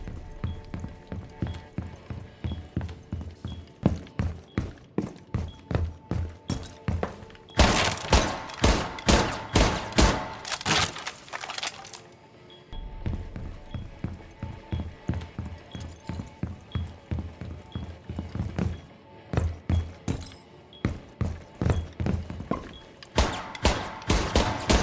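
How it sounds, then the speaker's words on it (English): Rapid bursts of gunfire in Rainbow Six Siege crack over and over, some in dense volleys, with short lulls between the firing. "The loudness of the gunshots and explosions are obviously still loud"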